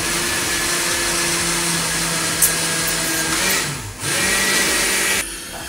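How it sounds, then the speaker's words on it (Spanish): A blender whirs loudly and close, blending a fat-burning juice with water, its motor roar steady with shifting pitch as it dips briefly, then cuts off near the end. "licuadora"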